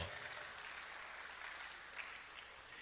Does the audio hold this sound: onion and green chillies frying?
no